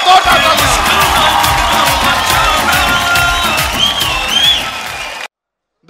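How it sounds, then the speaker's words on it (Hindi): Loud applause and cheering from a crowd at a leaders' event, honoring a chef, with whoops and shouts over dense clapping before an abrupt cut to silence. "जोरदार तालियां दोस्तों, जोरदार तालियां।"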